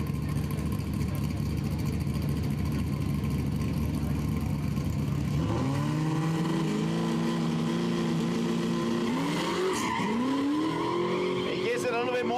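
A V6 Nissan-powered Datsun 1200 race car at a Quick Street drag event revs loudly, then launches with rising engine pitch through quick gear changes and a brief tyre squeal, while a commentator talks over the noise.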